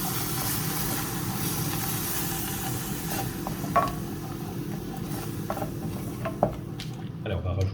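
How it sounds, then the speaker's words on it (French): Spoon stirring thick crème fraîche into chopped spinach in a hot pan, a steady soft sizzle underneath with a few light scrapes and taps against the pan. "On va rajouter la crème fraîche. On va mettre 3 bonnes cuillères, on va mélanger."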